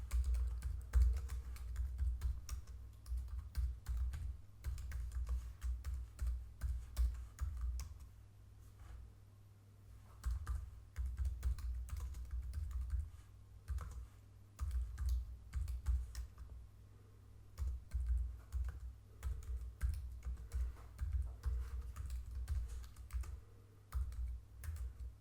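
Steady typing on a computer keyboard while entering a Cisco Nexus switch configuration, with continuous close clicking keystrokes, short pauses and a low hum underneath.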